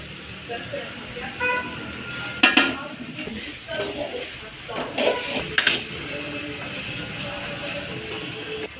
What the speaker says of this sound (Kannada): ಗೋರಿಕಾಯಿ ಈಗ ಇದಕ್ಕೆ ಹಾಕ್ಕೊಳ್ಳೋಣ